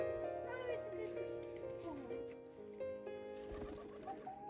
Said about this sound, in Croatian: Domaći golub.